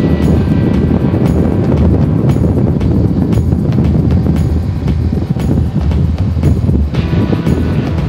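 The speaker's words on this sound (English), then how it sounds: "the wind's blowing up there" Strong wind buffets the microphone in a heavy, continuous roar with low rumbling gusts, loud and unbroken throughout, with no talking.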